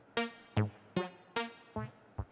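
Modular synthesizer voices run through a modulated Filter 8 module, six plucky tones with sharp attacks and quick decays, each with a sweeping filtered timbre, played alone in an uneven rhythm.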